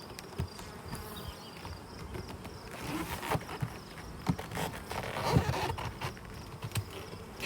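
Honeybees buzz steadily around a hive in hot weather while someone works the inner cover, and faint scrapes and handling noises sound over the dense insect drone.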